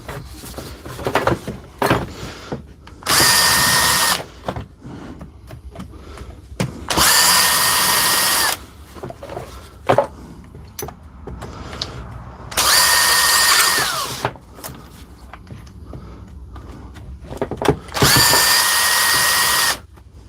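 An old type 1 DeWalt power drill runs in four loud bursts of a few seconds each, whining steadily, separated by clicks, knocks and handling noises on a workbench.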